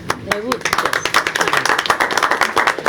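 Applause at a transportation planning task force meeting in Portsmouth, Virginia, a burst of many hands clapping loudly and continuously after a brief moment of talk at the start.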